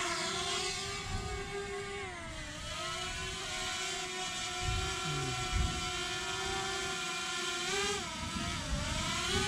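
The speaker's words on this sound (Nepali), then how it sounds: "म जङ्गलमा बसेर ड्रोन उडाइरहेको छु" A drone flies in a jungle, its propellers producing a steady high-pitched whine that shifts slightly in pitch as it maneuvers, continuous and fairly close, with some low rumbling wind noise and no talk.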